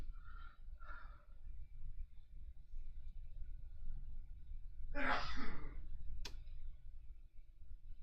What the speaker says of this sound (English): There was a sneeze from the other room.